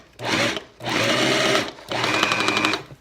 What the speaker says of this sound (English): I'm going to continue driving this big bolt into the wood